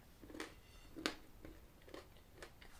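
Bites and chewing of Fazer milk chocolate with Turkish pepper, heard close up as a few crisp crunches spaced about half a second apart, soft and intimate against a quiet background.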